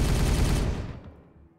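Gunfire from the Warhammer 40K Regicide video game: one loud, dense burst of rapid shots that rumbles and fades away over about a second and a half, with no voices.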